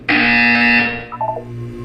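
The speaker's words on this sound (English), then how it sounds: "You will hear a buzzer." A game buzzer from Portal 2 sounds once, loud and close, a harsh electronic tone lasting just under a second before fading into a short burst of softer electronic blips.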